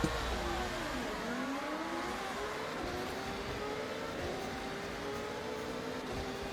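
Mazda Furai race car engine in Forza Horizon 6, a steady loud drone with rising and falling pitch sweeps as it revs and shifts through a race, continuous throughout with no talking.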